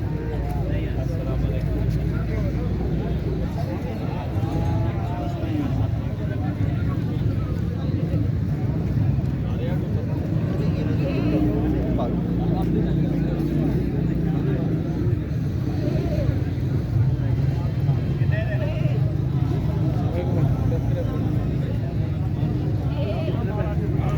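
Goats bleat at a busy goat market in Khanewal, mixed with steady crowd chatter and background bustle throughout, with people talking nearby.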